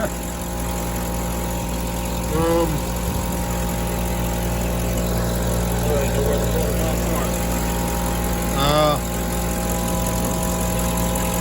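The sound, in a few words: van engine running with some shaking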